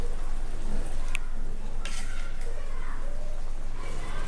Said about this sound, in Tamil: தண்ணி ஊற்றின உடனே நல்லா கொதிச்சிட்டு இருக்குது.